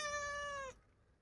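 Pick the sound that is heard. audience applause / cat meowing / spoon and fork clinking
cat meowing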